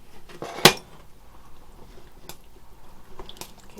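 A metal spoon clanks against a cooking pot, with one sharp knock followed by lighter scattered taps and soft wet scraping as food is stirred, close and quiet.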